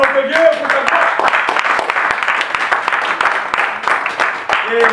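A church congregation claps and cheers to acclaim God at a French-language house celebration. The applause is loud and sustained, and voices sing and call out over it throughout.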